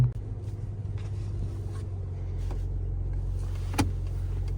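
A Porsche Cayenne sits at a hillclimb with its engine running, giving a low steady idle rumble heard from inside the cabin, with a few soft mechanical clicks and a brief sharp knock near the end.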